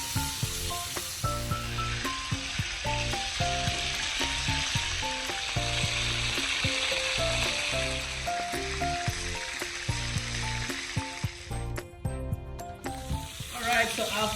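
Chicken pieces fry in a pan for chicken mechado, a steady, loud hiss and sizzle running throughout with background music underneath and no break in the crackle.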